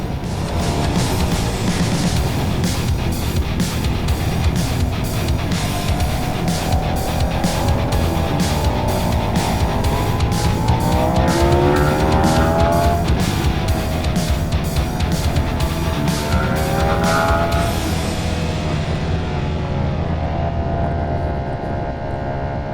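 Ducati Panigale V4S motorcycle at speed on a race track, a loud continuous engine roar with rising and falling pitch sweeps as it shifts through the gears, with no talk.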